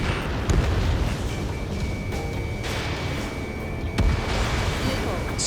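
Explosion of a destroyed SAM site in the combat flight game Ace Combat 7, a deep rumbling boom over steady jet engine roar, with a couple of sharper blasts and radio voices talking.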